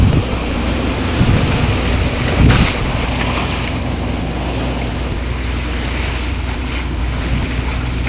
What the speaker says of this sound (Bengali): বন্যা বয়ে যাচ্ছে।